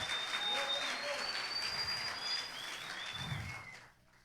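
A church congregation clapping for the Lord, a dense spatter of hand claps under a loud, continuous wash that fades off abruptly near the end.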